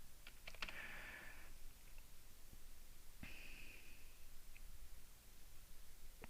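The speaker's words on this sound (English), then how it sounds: "I'm going to type in Smith and Wesson." Typing on a computer keyboard, a quick cluster of light clicks followed by a second short burst a couple of seconds later, faint against steady background hiss.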